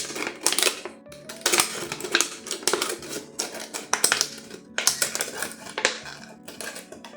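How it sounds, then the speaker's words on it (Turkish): Scissors crunch and snip through a stiff plastic PET bottle in irregular bursts, close and fairly loud, with crackling between cuts and no voices. "Bir pet şişenin üst kısmını makas yardımıyla güzelce kesiyorum."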